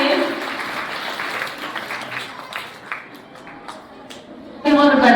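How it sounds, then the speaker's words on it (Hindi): A school audience at a children's Shishu Vatika program claps steadily, a dense sustained patter with voices mixed in, swelling into a louder burst of applause near the end. "अब मेरे लिए भी तालियां बजा दो,"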